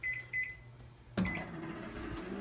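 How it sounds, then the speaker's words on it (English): A microwave oven runs with a steady low hum, punctuated near the start by short beeps, then a louder clunk as it starts or the door shuts, followed by continuing mechanical whir and faint rattling. "Probably not very safe to use a microwave and vlog."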